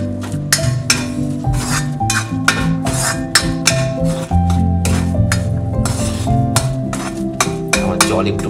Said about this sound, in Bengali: দেখুন কিভাবে নাড়ছি, এইভাবে নাড়তে থাকতে হবে।